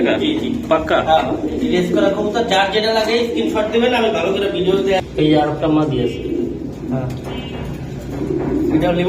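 A racing pigeon coos in soft, repeated throaty bursts close by, heard underneath people talking over it almost continuously.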